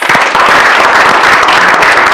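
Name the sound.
clapping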